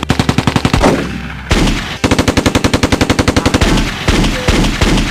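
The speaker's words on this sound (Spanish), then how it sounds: "Yo quiero ver a Salo disparando tiros" Bursts of rapid automatic gunfire in an action film teaser, loud and close, coming in several sharp rattling volleys separated by brief gaps and heavy booms.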